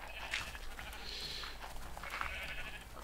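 A sheep bleats faintly in the Minecraft video game, a few short wavering bleats over a quiet background hum, with no talk.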